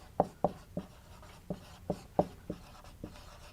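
Chalk or marker writing on a board during a linear systems lecture, eight sharp taps and strokes in an uneven rhythm, close and fairly clear against a quiet room.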